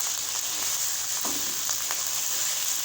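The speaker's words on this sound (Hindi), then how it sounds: "अब हम चिकन को इसमें पकाएंगे। तकरीबन हम इसे 5 मिनट तक फ्राई करेंगे।" Chicken pieces fry in a pan for chicken pulao, giving a steady close sizzle with a bright hiss and a few soft stirring clinks and pops.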